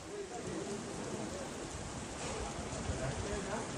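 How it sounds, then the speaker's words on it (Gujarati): Heavy rain showers pouring down in Amreli, Gujarat, a dense, even hiss of rainfall that holds steady from start to finish without pause. "ટૂંકા ગાળામાં વરસેલા ભારે વરસાદને કારણે શહેરના અનેક માર્ગો પર પાણી ભરાઈ ગયા હતા"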